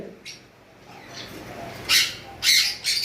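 Fischer's lovebirds call in a bird shop with a few short, sharp chirping bursts near the end over quiet room noise.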